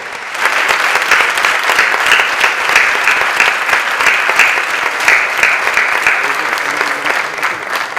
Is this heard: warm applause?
yes